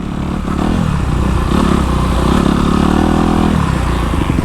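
A motocross motorcycle engine runs loud and close with a steady droning rev, rising slightly in the middle, as the bike rides onto a dirt track before a race, with some clattering alongside.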